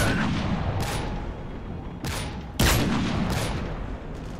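Unsilenced gunfire rings out in a military shooter video game: dense, loud bursts of shots and booming reports layered over a continuous rumble, with sharp spikes standing out.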